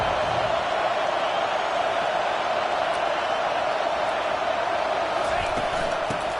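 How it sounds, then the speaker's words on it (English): Stadium home crowd roaring in the College Football 25 video game, a steady, dense wall of cheering that holds at an even level for the whole stretch, with no voices standing out. "Just underway, and this home crowd is fired up and ready to make a difference today."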